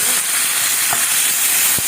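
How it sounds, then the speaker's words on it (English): Garlic, chilli and tomato fry in vegetable oil with a steady, close sizzle and hiss throughout, broken by a couple of brief stirring knocks. "I'm going to give it a fry along with some tomato"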